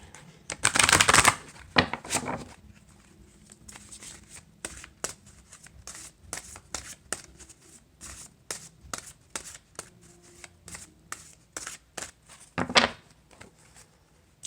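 Vision of the Soul oracle cards being shuffled up close, with a loud riffling burst at the start and again near the end, and many sharp card taps and flicks in between, with no voice.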